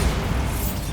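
A Bombarda blast spell goes off in Hogwarts Legacy: a loud, booming burst of explosive rumble that fills the whole second without letup.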